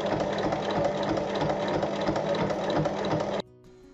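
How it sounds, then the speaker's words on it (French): Sewing machine topstitching a long seam along fabric, running at a steady fast whir close up for over three seconds before stopping abruptly. "Et il faut faire une surpiqûre sur toute la longueur."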